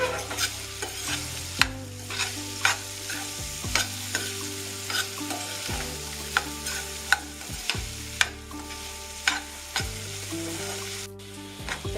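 Raw mango pieces fry in a pan under a steady sizzle, with frequent spoon scrapes and knocks against the pan as they are stirred, close and continuous for the whole stretch.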